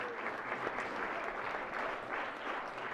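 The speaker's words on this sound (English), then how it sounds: "if we could give a round of applause to the Secretary of the Senate's office just for their great work" Senators on a state senate floor give a round of applause, steady dense clapping sustained evenly throughout with no speech over it.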